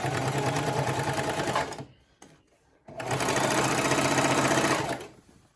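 A Singer Classic sewing machine hems a pair of pants, its needle running in a fast, even mechanical chatter for nearly two seconds, pausing with faint handling noise, then stitching loudly again before stopping; close and clear with no talking.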